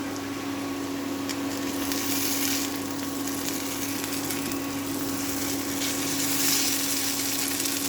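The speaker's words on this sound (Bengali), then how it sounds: "ভেজে নিয়ে নুডলসটা দিয়ে দিলাম।" Noodles frying in a pan on the stove, a steady close sizzle with a constant low hum underneath, continuous and even throughout.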